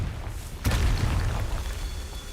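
An explosive Confringo spell blast in Hogwarts Legacy: a sudden heavy boom with a sharp crack, followed by a rumbling, fading tail over steady game ambience.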